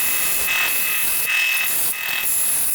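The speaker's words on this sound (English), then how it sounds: "I just took off the edges of the dowels so they fit through the wheels nice and tight" Wooden dowels have their edges filed off to fit toy train wheels: a steady, close, bright rasping scrape with a few stronger strokes around the middle and near the end.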